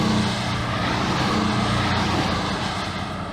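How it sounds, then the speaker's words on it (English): Porsche 718 Boxster four-cylinder boxer engine gives a loud, full, steady droning roar that holds close and constant throughout, with no talking. "Its B4 engine gives the 718 Boxster a typically full Porsche sports car sound."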